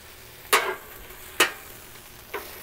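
Seasoned chicken pieces scraped and stirred in a pan with salt, pepper and garlic, three short separate scraping strokes, close and fairly quiet, with no talking.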